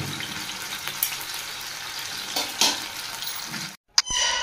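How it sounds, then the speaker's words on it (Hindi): Kebabs frying in hot oil over a medium flame, giving a steady close sizzle with soft crackles and brief spatters, cut off abruptly near the end before resuming. "यहाँ इस साइड देख सकते हैं कबाब अच्छी तरह से फ्राई हो रहा है"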